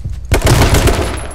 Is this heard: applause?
no